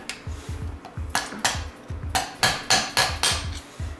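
A hammer pounds a stuck pin out of a truck spindle during front disc brake work on a 1966 GMC, giving repeated sharp metallic strikes at a quick, uneven rhythm, loud and close, with no talking.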